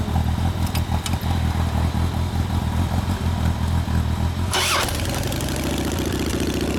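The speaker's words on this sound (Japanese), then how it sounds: "エンジン音聞かせてもらえますか？" A 2004 Harley-Davidson Dyna Low Rider with an aftermarket muffler runs loud and close. Its deep, steady idle rumble cuts sharply into the starter and firing, then settles into an even running throb.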